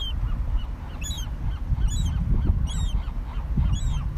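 A goose honks repeatedly at close range in a steady rhythm of about four calls, over a loud rumbling wind-like background.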